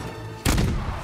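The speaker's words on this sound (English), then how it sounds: "That is a big explosion, if I do say so myself." An explosion in the video game Ghost of Tsushima bursts suddenly after a quieter lead-in, a loud broadband boom that lingers with rumbling tail for the rest of the moment.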